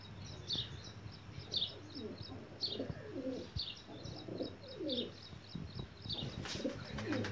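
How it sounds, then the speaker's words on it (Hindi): Racing pigeons being readied for a pigeon-flying contest coo in repeated soft, low calls, with brief higher chirps and tweets scattered over a steady background hum. "लो जी कबूतर सारे तैयार हो गए"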